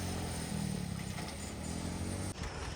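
A motorcycle runs at close range at a maize grain market in Barnala, Punjab, giving a steady, rough engine drone with a brief dip near the end and no talking.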